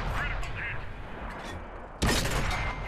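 Tank gun firing in World of Tanks: a single sharp, loud cannon blast near the end, preceded by low engine rumble and faint battle ambience, with some voice nearby.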